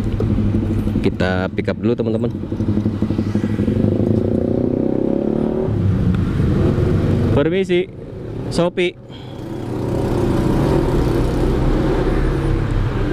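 Honda Supra motorcycle ridden through city streets for food delivery pickups, a steady engine putter and road noise under a rider talking, with a few brief gaps.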